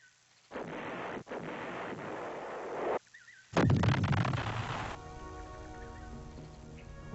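American artillery firing during the Vietnam War, heard as loud booming blasts with a sustained rumbling roar, a brief pause, then another heavy burst that fades into a lingering low rumble.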